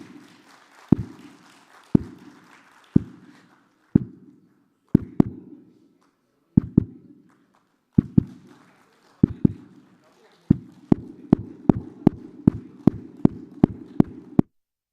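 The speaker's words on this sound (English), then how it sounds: "I request everyone to give a thunder round of applause" An audience at a corporate conclave claps in sparse, separate bursts that gather into a denser, steadier round of applause toward the end, close and fairly loud with no talking over it.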